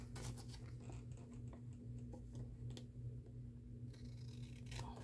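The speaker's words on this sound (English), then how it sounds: "using the edge of the card base as a guide to cut a straight line." Scissors snipping a straight line through card stock, steered along the edge of a card base during a paper-craft project; soft, close crisp cuts and scratchy ticks repeat steadily over a constant low hum, with no talk.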